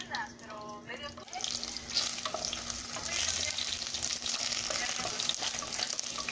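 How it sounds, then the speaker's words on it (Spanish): A small piece of onion fries in a pan for salsa verde, giving a steady, close sizzle that runs throughout, with a faint voice briefly at the start. "Vamos a dejar entonces aquí que se vaya friendo muy bien este pedacito de cebolla para poder agregar nuestra salsa."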